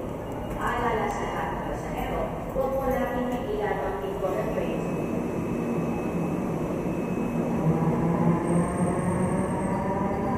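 A commuter train rumbles past steadily at Quezon Avenue station, with a person speaking over the continuous low roar.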